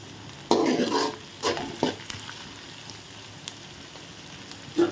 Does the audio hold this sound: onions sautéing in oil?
yes